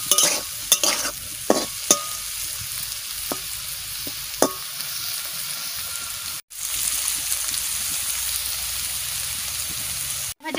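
Papaya pieces fry in a pan while being stirred, a steady soft sizzle broken by sharp scraping and clacking strokes of the spatula, close and fairly loud.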